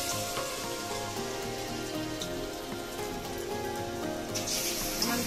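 Brinjal fritters (beguni) frying in hot oil in a wok, a steady dense sizzle and crackle running without pause, close and fairly loud, with no talk.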